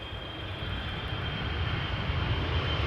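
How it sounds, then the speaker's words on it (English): KLM Boeing 777-300ER airliner arriving at Amsterdam Schiphol, a steady broadband jet engine roar that swells gradually louder over a few seconds, heard alone with no voices. "KLM Flight 598, arriving from Cape Town, South Africa."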